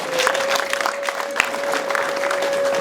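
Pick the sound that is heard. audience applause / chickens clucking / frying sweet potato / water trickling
audience applause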